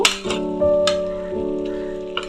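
Potatoes drop one at a time into hot oil in a frying pan while an egg and potato posto dish cooks, each drop setting off a fresh burst of close sizzling over a steady frying hiss.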